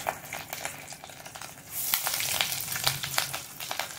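Fish roe fritters bound with gram flour sizzle and crackle in hot oil in a wok, a steady close frying hiss with sharp spitting pops that swells louder midway.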